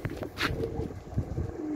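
Pigeons cooing in a loft of racing and breeding birds, soft repeated low coos close by over a busy background of shuffling and other bird calls, with no talk.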